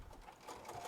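A sewing machine stitches a Sheera purse in one brief, faint mechanical whir that lasts under a second, with no talking over it.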